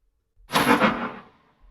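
A quick rising swoosh that swells into a soft impact, then trails off into a fading tail, heard alone.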